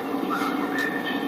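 A train passing in the video game GTA 5 Online, a continuous rumbling roar with a faint metallic whine, steady and fairly close, with no talking.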